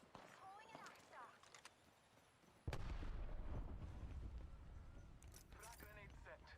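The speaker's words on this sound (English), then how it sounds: "Throwing an Arcstar." An Arc Star grenade thrown in the video game Apex Legends: a sudden loud crackling burst that holds steady for several seconds, with brief game voice lines before and after it.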